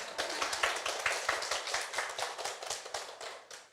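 An audience applauds at a live lecture event with an in-person crowd. Faint, steady clapping from many hands continues for several seconds, heard from a distance without speech.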